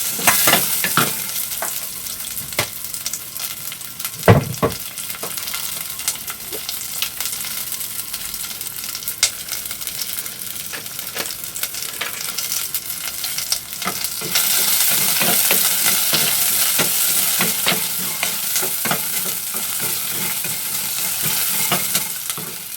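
Onions sizzling in a hot pan while being stirred, a continuous close frying hiss with scattered scraping clicks and one sharp knock, the sizzle growing louder in the final stretch.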